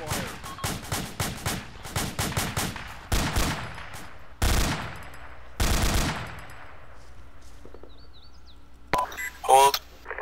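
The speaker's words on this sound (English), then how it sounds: "We're taking fire up here." Gunfire in a firefight during an EOD military patrol: rapid bursts of automatic shots, then several heavier, longer volleys. Each is loud with a trailing echo, and a short chirp and faint voices come near the end.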